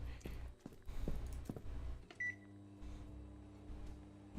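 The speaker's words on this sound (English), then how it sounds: "We'll put this one in the microwave." A microwave oven in the video game Grub Truck beeps once, then settles into a steady low electric hum that runs on by itself.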